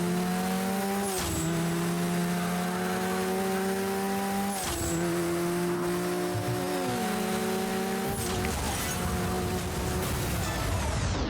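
Racing cars in the 2004 video game Burnout 3: Takedown whine steadily at high revs, with sharp gear shifts dropping the engine pitch every few seconds and a rushing wind-like roar beneath.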